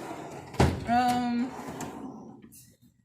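A tool box drawer thumps then slides open with a short scraping rattle, followed by a brief voice and fading clatter of loose items inside.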